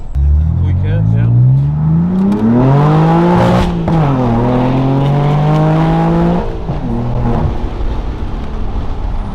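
A straight-piped BMW M4 exhaust revving up, holding, then dropping back, loud and close, with a person talking over the idle afterward.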